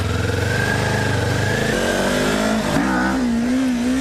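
A Kawasaki Ninja 400 motorcycle revs hard and accelerates into a wheelie, its engine note climbing and shifting loud and close on an evening ride, with no talking.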